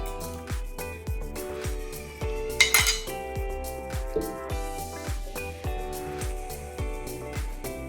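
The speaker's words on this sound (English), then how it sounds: "put in 6 teaspoons of sugar" A metal teaspoon scoops sugar into a strawberry milkshake glass with a steady series of bright clinks about twice per second. One louder scraping clatter cuts in partway through, and the sound stays close with no talking.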